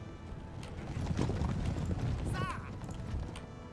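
Rapid clip-clopping hooves of galloping horse guards cavalry in a Napoleon: Total War battle, with a brief horse whinny partway through and a busy mix of battle noise.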